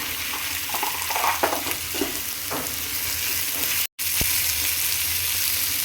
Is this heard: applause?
no